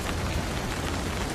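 Rain falls outdoors in Portugal as a dense, even hiss of drops that stays steady and fairly loud from start to finish.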